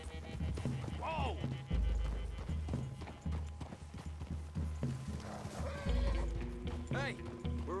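Horses' hooves clip-clopping on the ground in Red Dead Redemption 2, with a whinny and a loud, close rush of movement among the steps, while voices talk over it.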